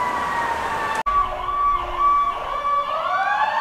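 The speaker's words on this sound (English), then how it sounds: "some more sirens are coming, so I'm going to shut this off until that ends" Wailing emergency sirens sweep up and down continuously on a street in Salisbury, North Carolina, loud and fairly close, with a brief cut near the start and steady traffic rumble underneath.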